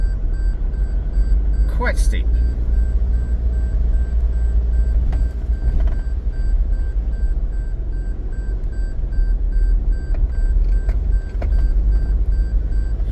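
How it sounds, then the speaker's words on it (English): A 4WD vehicle sounds a repeating electronic beep after being put into low range on a steep descent, the tone steady under a low engine rumble and a man's speech. "just popped it into low range, which is why there's that beeping sound"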